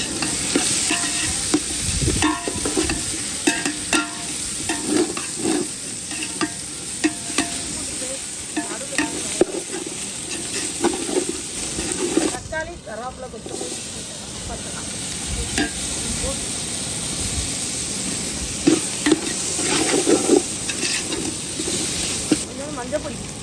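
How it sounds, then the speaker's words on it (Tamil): Hot oil in a pan heated for a curry, with food frying and being stirred, gives an uneven crackling sizzle with scraping strokes, close and moderately loud throughout. "சட்டி சூடாயிருச்சு குழம்புக்கு தேவையான எண்ணெய் ஊற்றிக்கலாம்"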